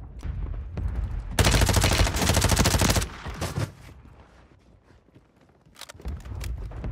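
Rapid automatic gunfire from an MP5 in Warzone 3 on Rebirth Island, a loud dense burst lasting under two seconds, followed by a lull, then scattered sharper shots near the end.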